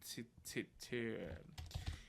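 Rapid keystrokes on a computer keyboard during CSS coding work, a quick run of light clicks with a voice briefly talking over them.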